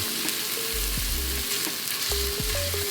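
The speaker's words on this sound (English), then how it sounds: "our Instant Pot is on the saute function, and we're going to add in our minced garlic. Sizzle, sizzle." Minced garlic sizzling in an Instant Pot on the saute setting, a steady close frying hiss with a few soft stirring scrapes from a rubber spatula.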